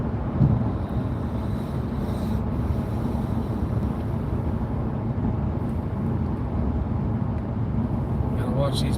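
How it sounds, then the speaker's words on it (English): Strong wind buffets a hybrid Jeep cruising on the interstate, making a continuous low roar of wind and road rumble that stays constant throughout. "It is very windy out here."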